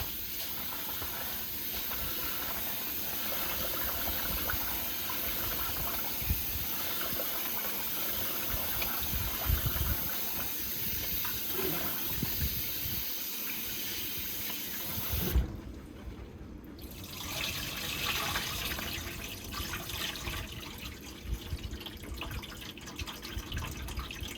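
Rice being rinsed under a running kitchen tap for a final wash, a steady close hiss of flowing water with splashing in a sink, continuous throughout with a brief louder burst partway.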